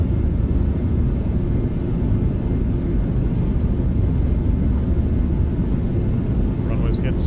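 Boeing 737 jet engines roaring at takeoff thrust in a flight simulator game, a steady, loud, dense rumble held throughout with no letup, voices talking faintly over it.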